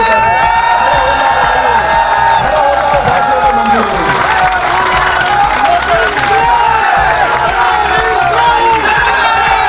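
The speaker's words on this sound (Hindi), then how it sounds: "सब खड़े होकर तालियां इतनी जोर से बजाओ कि हमारे शहीदों को भी सुनाई दे" A large crowd at an outdoor village statue unveiling for Bhagat Singh's birthday stands and claps loudly, with cheering, whoops and children's shouts mixed into the continuous applause.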